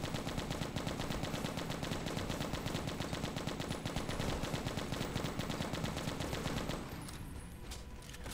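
Rapid, continuous automatic gunfire from shooting zombies in the mobile game Left to Survive, a dense unbroken rattle of shots that fills nearly the whole stretch before easing slightly near the end.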